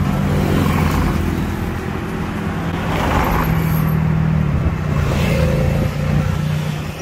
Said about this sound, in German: So, mal wieder Tuk-Tuk fahren hier.